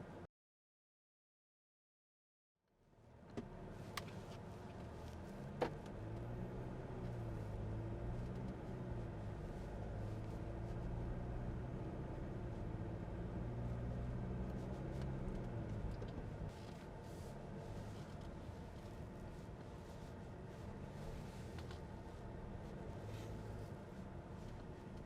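Steady low road rumble and tyre drone inside an MG Gloster SUV cabin while driving up to about 80 km/h with the air conditioning running, continuous and moderate after a brief silent start, with no talking.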